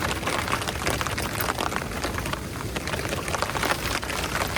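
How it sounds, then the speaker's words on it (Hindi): Light monsoon rain pattering steadily on a tent at a wild camping spot, a dense, even hiss of drops that stays close and continuous with no pauses. "बारिश भी हल्के हल्के बारिश बढ़िया हो रहा है।"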